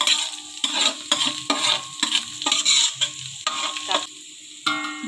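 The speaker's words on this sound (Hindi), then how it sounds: "मैंने इसके अंदर डाल दिया था अदरक लहसुन का पेस्ट, और अब इसको कर लेंगे थोड़ा सा फ्राई इसमें।" Onions and ginger-garlic paste fry in a pan, with a steady sizzle broken by repeated scraping stir strokes roughly every half second. The sound is close and clear, with no talking.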